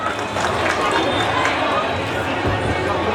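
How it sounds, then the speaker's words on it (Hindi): Applause from an audience at a Hindi ceremony honouring a doctor, a steady, dense wash of clapping from many hands, fairly close and even throughout. "जोरदार तालियां हमारे श्री राजेश कुमार राजू के लिए।"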